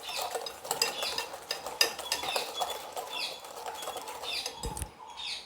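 Spoon stirring wheat flour cookie dough in a bowl for coconut cookies, soft repeated scraping and light clinks against the bowl, fairly quiet with no talking.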